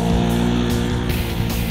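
A Polaris RZR side-by-side with a CVT transmission holds a dull, steady engine drone at a narrow RPM range, loud and close, with a rough low rumble and no voices.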